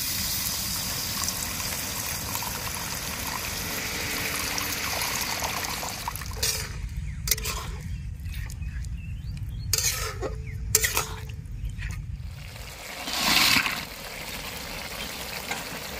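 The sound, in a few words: water being poured into the fish curry pan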